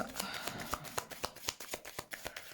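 Oracle cards shuffled and drawn from a deck during a card reading, giving a run of quick papery flicks and riffles close by with no talk over them.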